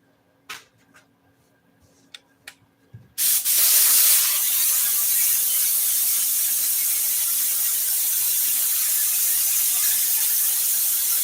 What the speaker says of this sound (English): I'm gonna spray this headliner.